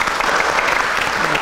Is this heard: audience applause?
yes